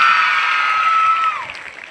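Loud, close applause from a school audience greeting the head teacher at a government girls' higher secondary school function, a dense burst of clapping that fades out after a second or so.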